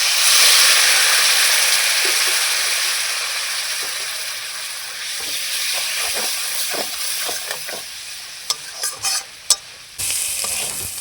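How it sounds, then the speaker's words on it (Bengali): Masala spice paste frying and sizzling in a pan for potato and egg curry, a loud, continuous hiss that eases slightly, with scattered stirring scrapes and clicks toward the end. "ভালোভাবে এখন ভেজে নেব"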